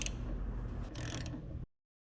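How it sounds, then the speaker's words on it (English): The crankshaft of a disassembled John Deere B tractor engine is turned by hand, giving a faint low mechanical grinding with a few metallic clicks, then cutting to silence. "Now we're going to turn the crank to pull it out."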